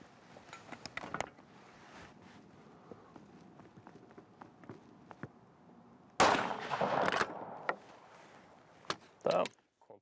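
Rifle being zeroed with a Micro H1 sight on a target board: quiet handling and footstep noises, then a sharp loud shot with a brief ringing tail and a second short burst near the end.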